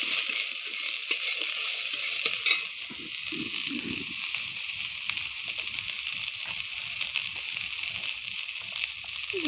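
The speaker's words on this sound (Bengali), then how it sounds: "পেঁয়াজটা আগে ভেজে নিব।" Chopped onions frying in a pan before pangas fish is cooked, giving a steady, close sizzling hiss with soft stirring scrapes and light crackles throughout; no one speaks.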